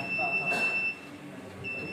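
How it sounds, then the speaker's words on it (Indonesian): A thin, steady high-pitched buzzer tone sounds faintly over low background hum as an emergency switch is pressed, cutting out briefly before resuming. "dan lampu buzzer pun menyala."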